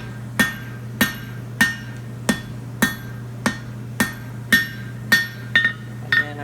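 A blacksmith's hammer rings on hot steel while forging a shoulder on a pair of wolf-jaw tongs, striking about a dozen sharp, close, evenly spaced blows with a bright metallic ring and a double tap near the end, over a steady low hum.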